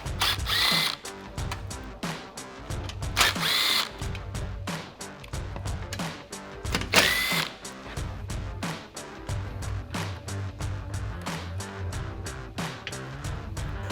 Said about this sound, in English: I'm going to use a combination of a clip removal tool and a 7mm socket on my impact to remove the 4 screws